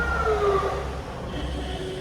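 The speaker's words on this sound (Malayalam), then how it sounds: "ആംബുലൻസ്" An emergency siren wails with a rising and falling tone, moderately close, over steady traffic rumble.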